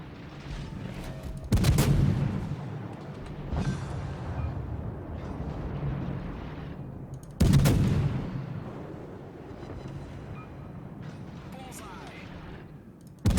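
Heavy naval guns booming in World of Warships, two loud broadband blasts a few seconds apart over a rumbling battle bed, with quieter distant thuds between and a voice talking throughout.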